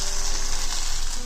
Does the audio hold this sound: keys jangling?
no